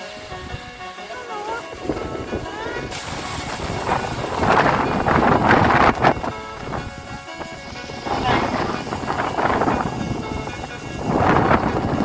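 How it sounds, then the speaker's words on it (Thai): Wind gusts sweep across an open rice field, rushing and buffeting the microphone in repeated surges that swell and fade, with people talking underneath. "โดนลมพัด"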